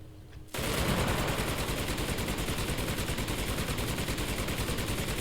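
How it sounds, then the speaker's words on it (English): Tank machine gun in the WW2 shooter Enlisted opens up after a brief quiet moment, then rattles on in one loud, unbroken automatic burst of rapid shots for about five seconds. "And now it wants us to use the machine gun."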